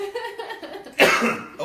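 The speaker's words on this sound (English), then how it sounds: "please excuse me for the coughing and the hacking" A person with a lung infection gives a sudden harsh, hacking cough partway through, loud and close, with faint breathy sounds before it and a second shorter burst right after.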